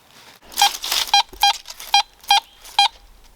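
Metal detector sounding over a rimfire cartridge casing at an old cabin site: a brief scratchy sweep, then six sharp, evenly spaced electronic beeps, close and clear.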